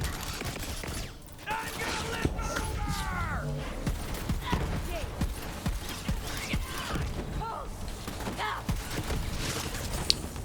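Rapid shotgun blasts from a Hyperion shotgun in the Borderlands 3 video game, sharp repeated shots in irregular bursts mixed with game effects and enemy noises, with a player talking over parts of it.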